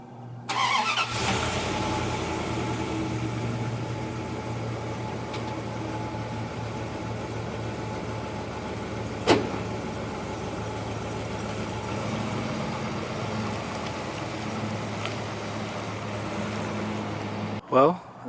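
A car engine starts and runs steadily as the vehicle is driven on a short test drive after a ball joint replacement, a continuous mid-pitched engine drone with a couple of brief knocks, with talk over it.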